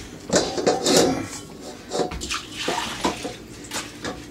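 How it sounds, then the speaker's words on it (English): Soaking water drains off buckwheat in uneven sloshing pours and splashes, close and moderately loud, with small knocks of the container in between. "first thing we're gonna do is drain off the buckwheat"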